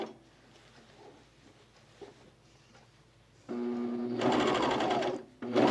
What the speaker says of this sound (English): I'm just going to overlock this edge.